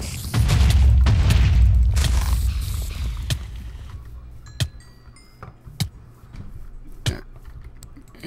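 A powerful weapon blast in a Star Wars mod for Minecraft on Endor: a loud, deep explosion that roars for a couple of seconds and fades, followed by scattered sharp clicks and pops.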